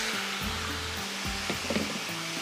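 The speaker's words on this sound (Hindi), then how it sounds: "फ्राई हो रहा है ये" Onion frying in oil in a pan on a cooking show, a steady close sizzle with a broad hiss, overlaid by faint tonal hums and a few soft clinks, no talking.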